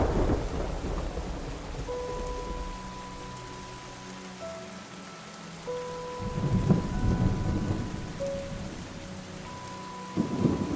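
Rain and rolling thunder in a video game, steady rainfall with low rumbles swelling in the middle and again near the end, accompanied by soft sustained musical tones, with no talking.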